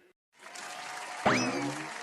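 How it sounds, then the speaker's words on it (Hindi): An audience at an Independence Day program applauds to welcome a performer, with clapping that starts abruptly after a brief silence and a rising whistle cutting through midway. "तो प्लीज दोस्तों जोरदार तालियों से स्वागत कीजिए नरेंद्र मोदी जी का।"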